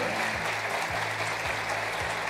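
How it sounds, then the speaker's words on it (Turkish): Conference audience applause, a steady wash of clapping at moderate level across two seconds, with a rhythmic low mechanical pulse repeating underneath. "güçlü bir alkış alabilir miyiz?"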